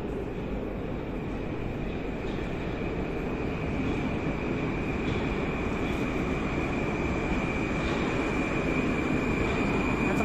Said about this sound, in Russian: Последний поезд, на котором мы сейчас поедем